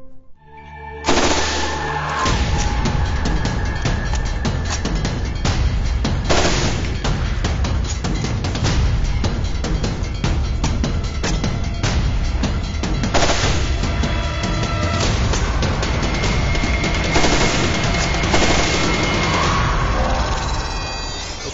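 M249 SAW and M27 IAR automatic rifles fire sustained bursts through a reload drill, dense loud cracking automatic fire running almost without pause for about twenty seconds, with brief gaps between bursts for magazine changes.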